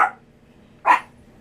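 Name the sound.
dog barking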